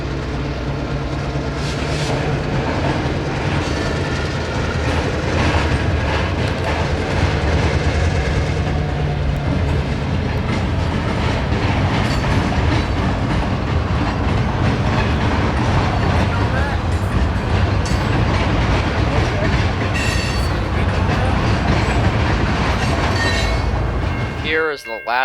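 A freight train rolls past on the former ACL Palmetto Subdivision near Port Manatee, a loud, continuous rumble with clattering wheels and squeals that holds for the whole stretch before ending abruptly.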